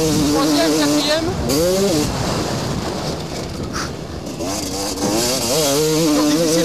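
A motocross motorcycle on a 2000-era track revs hard and climbs through the gears, engine pitch rising and dropping with each shift, loud and close under wind buffeting, while the rider talks over it.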